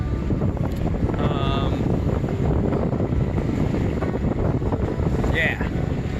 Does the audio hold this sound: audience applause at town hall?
no